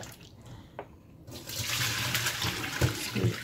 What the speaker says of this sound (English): I'll drain out the water, put in cold water